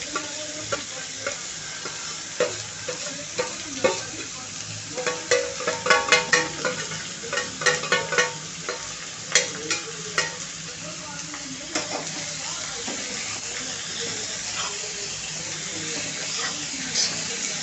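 Onions fry with green chilies in a pan with a steady close sizzle, punctuated by rhythmic scraping and clinking of a spoon stirring against the pan, with occasional quiet talk.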